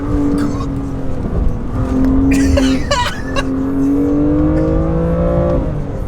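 A 2021 BMW M2 Competition with a six-speed manual accelerating out of the pit lane, engine droning and rising in pitch through the gears, close and loud, with brief squeaks and clatter partway through.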